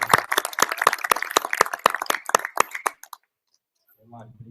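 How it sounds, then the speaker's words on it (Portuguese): A small audience at a workshop applauds a speaker with a few seconds of sparse, rhythmic hand claps that stop abruptly, followed by a faint murmur. "Uma salva de palmas para o Mário."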